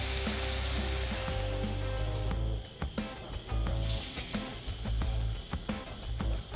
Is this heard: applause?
no